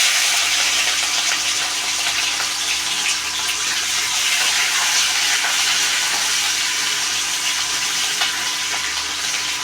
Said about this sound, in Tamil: பச்சை மிளகா போடுறோம்.